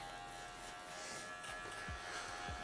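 Electric hair clipper fitted with a number 2 guard buzzing through a man's hair during a V-shaped fade haircut, a steady close-up drone with faint bumps as it passes over the scalp, no voices.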